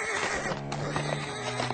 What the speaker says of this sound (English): Easy, horse, easy.